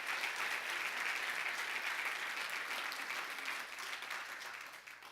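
Congregation applauding during an evangelical church service, a dense, steady burst of clapping that holds for several seconds and tapers slightly at the end, with no speech over it.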